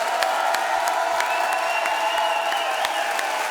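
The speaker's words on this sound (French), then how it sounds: "on va applaudir Mister V de nous avoir fait confiance" Steady applause from a crowd, dense clapping with a few sharper claps standing out, continuous throughout.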